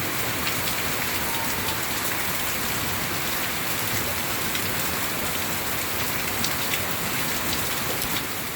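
Heavy summer storm rain in Central Florida pours down in a dense, continuous hiss of drops hitting surfaces, steady and unbroken with no voices.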